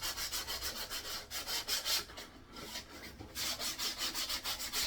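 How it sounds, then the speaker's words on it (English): Sandpaper rubbed by hand over thin 9–10 mm plywood for a nest box, a rhythmic back-and-forth scratching of steady strokes with a short pause midway, close and fairly quiet. "So get a bit of sandpaper first"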